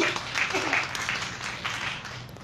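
An audience at a live comedy event in Chennai applauds performer Chennai Giri, a dense wash of clapping that swells and then tapers, with a voice briefly audible over it.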